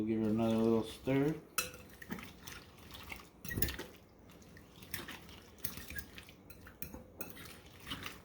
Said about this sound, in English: And we'll give it another little stir.